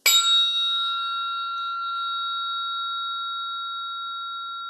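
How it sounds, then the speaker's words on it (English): A 222 hertz tuning fork struck once gives a pure, bell-like sustained tone that rings steadily and fades only slightly over several seconds, heard alone. "And what I love about this fork is it has kind of a bell-like quality."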